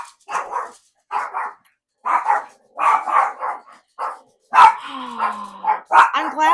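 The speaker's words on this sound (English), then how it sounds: "I'm glad the barking doesn't bother you because I can't make them stop." Multiple dogs indoors bark repeatedly in short, loud bursts and clusters, with a brief whine, near and nearly continuous, with little else heard.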